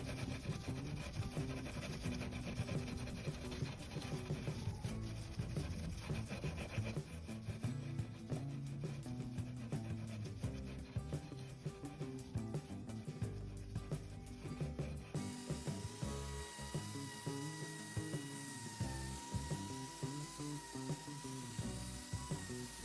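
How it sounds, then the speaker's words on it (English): An electric sander hums and rasps steadily against a painted wooden dresser, stripping the finish; a continuous grinding whir with brief shifts in pitch as it moves across the surface. "Just look at how the finish comes off in one swipe of the sander."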